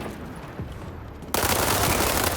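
Gunfire in a free-to-play online shooting game arrives as a sudden, loud, dense burst of rapid shots after a stretch of quieter game sound, with no talk.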